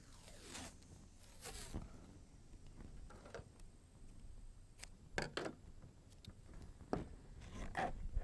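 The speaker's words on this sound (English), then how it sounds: "we're also going to run duct tape around the container" Duct tape ripping as it is pulled off the roll and wrapped around a container for a hypertufa planter form, a few quick rasping tears and crackles against a faint background with no talking.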